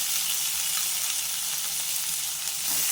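Onions and tomatoes fry in a pan, giving a loud, continuous hiss of sizzling oil with no pauses and no voices.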